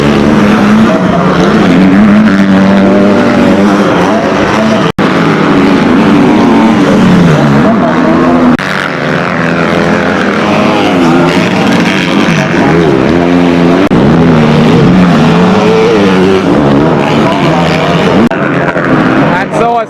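KTM motocross bikes race around a dirt track at an Irish national championship round, with loud, continuous engine revving and whining that rises and falls as they pass, while a commentator talks throughout.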